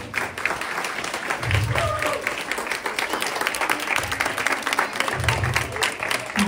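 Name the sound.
audience applause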